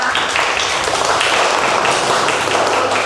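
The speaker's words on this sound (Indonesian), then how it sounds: "tepuk tangan kita semua" A class of fifth-grade pupils clapping together in a classroom, a loud, dense and continuous burst of many hands close by, sustained for the full three seconds with no pause.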